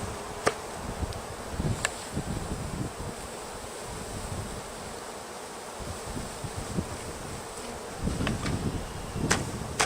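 Honey bees being shaken into a hive, a continuous buzzing drone with scattered thumps and rustling, louder toward the end, no talking.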